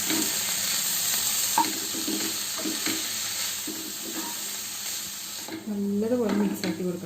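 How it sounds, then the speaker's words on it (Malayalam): Dry tuna fish mass with onions stirred and frying in a pan, a constant close sizzle with repeated scraping stirs, and a voice speaking briefly near the end. "നമ്മൾ നന്നായി മിക്സ് ചെയ്ത് കൊടുക്കുക."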